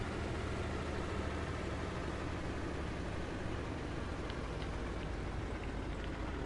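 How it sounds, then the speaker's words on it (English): A vehicle engine running in a survival video game, a constant dense rumbling drone filling the whole stretch at an even level, with no talk over it. "I'll turn the engine off so you can hear me."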